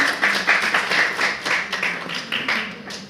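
An audience applauds a participant at a college speaking event, steady clapping from many hands filling the room for about three seconds without talk over it.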